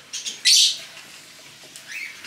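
Small pet birds chirping indoors in a home kitchen, a few bright, short tweets with one louder burst near the start, then fainter chirps later over quiet room tone.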